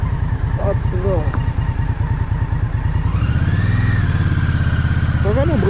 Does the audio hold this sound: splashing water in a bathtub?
no